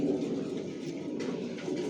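Racing pigeons of a Johnson long-distance line coo in a loft, a continuous soft low burbling chorus close by, steady throughout with no voices.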